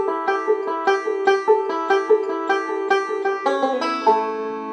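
A fixed-position lick picked on a stringed instrument: a quick run of about a dozen bright plucked notes with a pull-off near the end, settling on a final G, close and clear.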